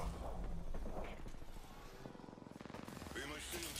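Gunfire in the video game Apex Legends, a rapid rattling burst of shots mixed with mechanical clicks and other game effects, moderately close.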